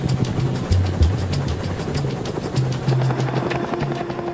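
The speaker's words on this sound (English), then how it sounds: "The wounded are taken off in the first Chinook." Chinook helicopter lifting wounded out of a combat zone, heard as a steady rotor and engine drone with rhythmic blade pulses, mid-distance and continuous.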